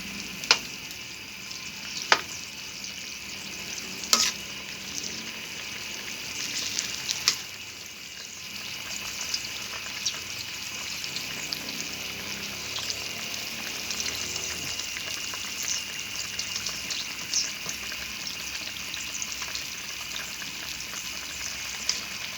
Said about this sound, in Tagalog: magkulo-kulo na yung ulam natin